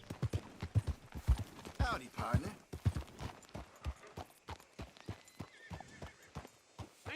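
Horse hooves clip-clopping with a whinny in Red Dead Redemption 2, steady hoofbeats close by and a brief neigh near the middle, with character voices talking over the sound.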